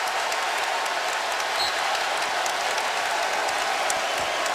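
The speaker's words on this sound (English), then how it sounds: "A Bronx cheer here in Chapel Hill as the call goes against Duke" A home crowd at a Duke vs North Carolina college basketball game in Chapel Hill gives a sustained Bronx cheer after a referee's call, a dense, even wall of distant crowd noise with no single voice standing out.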